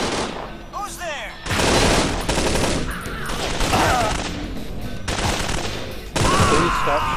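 Video game gunfire in a steelworks minefield level, with bursts of rapid automatic shots and booms aimed at the player, loud and close in repeated volleys.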